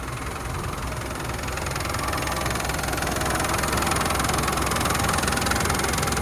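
A 1998 Land Rover Defender 90 with a 300TDI diesel idles indoors, a loud, close, steady rattling clatter that holds an even rhythm throughout.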